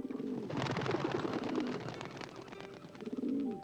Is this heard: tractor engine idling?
no